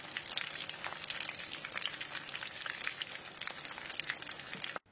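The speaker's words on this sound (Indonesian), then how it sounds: "Dan goreng semuanya sampai selesai" Mini egg martabak frying in hot oil gives a dense, steady sizzle and crackle for several seconds before cutting off abruptly at the end.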